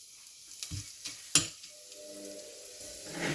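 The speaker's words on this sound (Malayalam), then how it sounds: "ഒരു 4 ഗ്രാമ്പൂ, ഒരു 4 ഏലക്കായ, ഒരു ചെറിയ കഷ്ണം കറുകപ്പട്ട, ഇത്രയും നമുക്ക് ചൂടായ എണ്ണയിലോട്ട് ഇട്ട് കൊടുക്കാം" Cloves, cardamom pods and a small piece of cinnamon dropped into hot oil in a cooker, giving a soft continuous sizzle with a few sharp crackles and pops, one louder burst in the middle, no talking.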